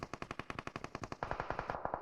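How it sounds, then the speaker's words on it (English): Rapid automatic gunfire in PUBG Mobile, a fast even rattle of shots that jumps louder halfway through and keeps going, with no talk over it. "There's a lot of gunfire inside the city"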